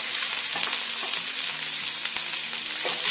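Urad dal, a green chili and a medium onion frying in hot oil for a masala dosa filling, a steady close sizzle with faint intermittent stirring scrapes, no voices.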